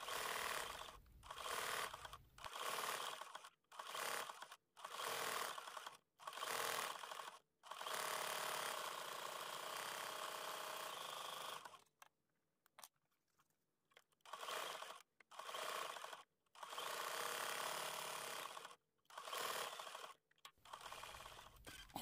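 An embroidery machine stitches out a freestanding raw-edge appliqué egg for a quilt block, running in repeated bursts of close mechanical needle noise separated by brief pauses, with a longer quiet gap in the middle.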